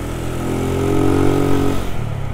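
A Yamaha Mio Sporty scooter fitted with a Sun Racing CVT set on a road test drones close and loud as its engine note rises steadily, holds, then drops off near the end, with no talk.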